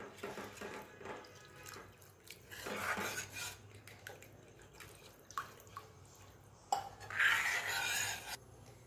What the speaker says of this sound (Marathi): इथे मी 2 ग्लास पाणी यामध्ये घालणार आहे।